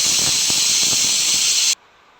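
A pressure cooker whistles while tomato rice cooks inside, a loud, steady hissing shriek that holds for nearly two seconds and then cuts off abruptly into quiet.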